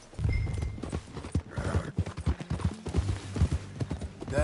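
Horse hooves clip-clopping in the video game Red Dead Redemption 2, a steady near walking rhythm of hoof strikes with a brief whinny-like sound in the middle, no talk.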